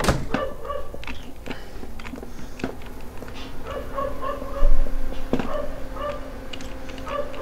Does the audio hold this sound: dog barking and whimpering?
yes